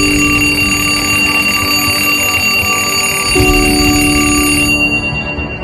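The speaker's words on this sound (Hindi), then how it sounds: "सुबह का अलार्म बजता है।" A morning alarm clock rings steadily and loudly with a bright, continuous electronic tone that shifts pitch partway through, then begins to fade near the end, with no talking.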